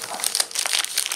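Packaging being pulled off a Dell Chromebook 5190 during unboxing, a close, continuous crinkling and rustling of plastic and wrapping with quick crackly bursts and no speech.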